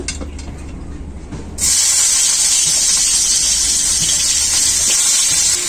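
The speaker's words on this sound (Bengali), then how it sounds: "ওই বড়া ভাজা তেলেই আমি ঝিঙেগুলো ভেজে নেব" Ridge gourd pieces drop into hot oil left from frying fritters, setting off a sudden loud, steady sizzle and hiss that holds strongly to the end after a quieter opening.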